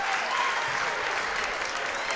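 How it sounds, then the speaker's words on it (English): Crowd cheering and applause fill a gym at a unified basketball tournament after a big shot, steady and loud throughout with a dense, sustained roar. "Big shot down and to our left, and that's what all the cheering is for"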